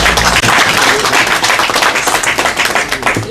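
A ceremony audience breaks into dense, steady applause for the Gabonese delegation, many hands clapping loudly and close for the whole stretch, with no voices heard.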